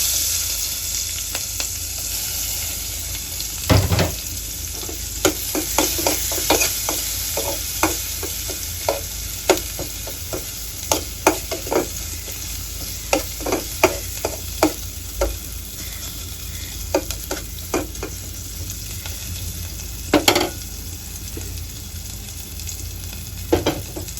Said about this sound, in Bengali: সবার ফার্স্টেই পেঁয়াজ আর মরিচ ভেজে নেব।